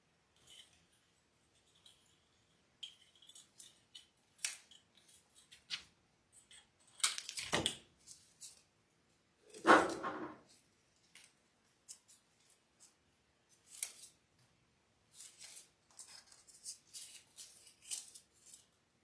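Scissors snip and trim around a handmade lemon and bluebird welcome wreath, quiet scattered cuts with a few louder crunchy snips in the middle, alone with no talk.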